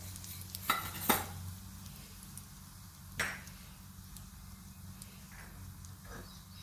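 Asafoetida crackles and sizzles in hot oil for a soybean curry, with a steady faint fizz and a few sharp scrapes and clinks of a spoon stirring the pan; no speech.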